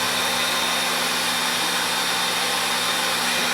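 A heat gun blows steadily over a pipe wrapped in pipe seal during a leak repair, a constant close whirring hiss with a faint motor hum, uninterrupted from start to finish.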